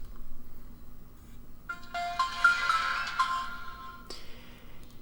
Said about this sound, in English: I want you guys to listen carefully to the boot up tune